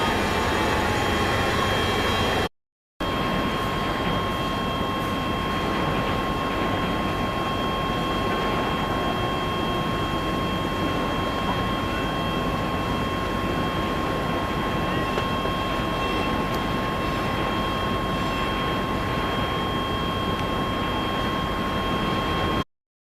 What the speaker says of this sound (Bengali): আর আমাদের লঞ্চটিও কিন্তু স্টার্ট দিয়ে দিল